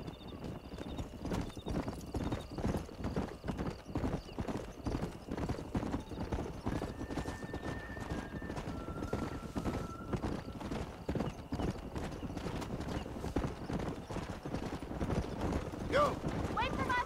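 Horses galloping in Red Dead Redemption while being driven up a canyon, a dense, fast clip-clop of many hooves throughout with neighs and whinnies on top and game dialogue over it.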